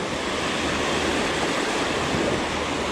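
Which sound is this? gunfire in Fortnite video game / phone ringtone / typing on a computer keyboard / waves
waves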